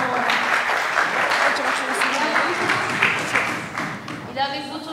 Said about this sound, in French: on peut l'applaudir pour la vidéo.